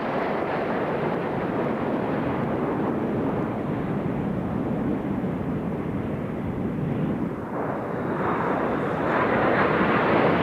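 A Sea Vixen jet flies past at the Festival of Speed air display, producing a loud, steady, broadband roar that holds for the whole stretch and swells slightly near the end.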